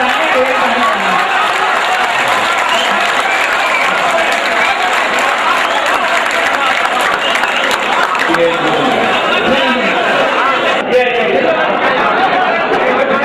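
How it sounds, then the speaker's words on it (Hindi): Sustained audience applause fills a mushaira (Urdu poetry recital) hall, a dense continuous wash of clapping mixed with crowd chatter and scattered cheers, steady and loud throughout. "तालियां दोस्तों"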